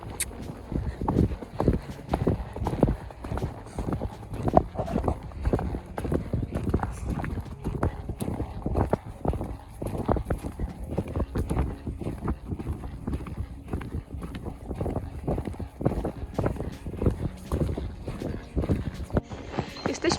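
Horse hooves clip-clop in a quick, steady rhythm while the horse gallops along a forest trail on a ride out from a stable, with a person talking throughout.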